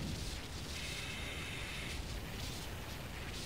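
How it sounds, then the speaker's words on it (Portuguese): Car explosion in the video game GTA 5, a soft muffled blast followed by a rushing roar of fire and debris noise, heard quietly and at a distance with no voices during it. "Olha essa explosão, cara."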